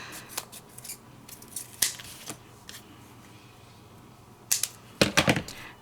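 Scissors snip through paper pieces for a handmade card: a few crisp, close cuts early on, a pause, then a quick burst of several snips near the end, with no talking.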